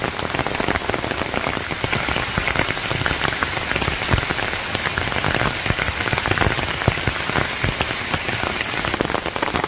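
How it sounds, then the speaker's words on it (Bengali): Light village rain falls in a steady, even patter on leaves and nearby surfaces, a continuous close hiss dotted with individual drop ticks and no voices. "হালকা হালকা বৃষ্টি আসছে।"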